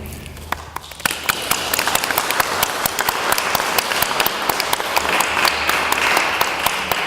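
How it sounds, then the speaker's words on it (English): Steady audience applause at a lecture event rings out close and dense, crisp individual claps standing out throughout the continuous clapping. "I certainly don't deserve a round of applause."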